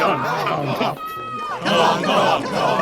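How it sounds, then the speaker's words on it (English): A wrestling crowd cheers and shouts in a short sound-effect burst, loud voices swelling, dipping briefly, then rising again. "So I believe now we come up to a wrestling crowd here."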